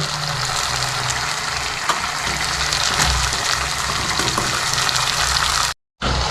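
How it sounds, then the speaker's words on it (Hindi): Badi, sun-dried lentil dumplings, fry in a spice masala with a constant, close sizzle and crackle that briefly cuts out near the end. "अब हम इसके अंदर अपनी बड़ियों को मिक्स कर देंगे।"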